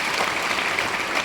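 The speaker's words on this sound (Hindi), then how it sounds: "तालियां" A seated audience at a bar council event bursts into dense, even applause, loud and continuous for the whole short stretch.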